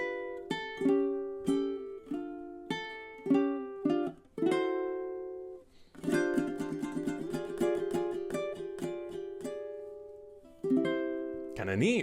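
A ukulele plays the closing measures of a song, from measure 22 to the end: plucked chords and melody notes, then a bright, rapidly strummed tremolo stretch, ending on a final ringing strum, with no talking.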